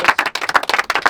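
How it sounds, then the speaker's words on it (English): Football teammates in an Aussie Sunday league side clap for their teammates in a short, close burst of hand claps over about a second, uneven in rhythm, with no talking. "Round of applause for Byers and round of applause for Zach."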